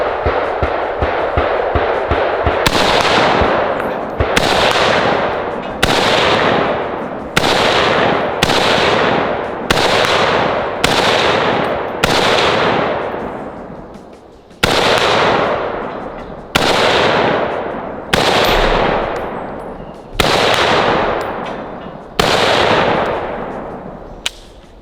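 A BM-59 rifle is fired outdoors, giving about fifteen loud, sharp shots at an uneven, deliberate pace, each followed by a brief echoing decay; no voices.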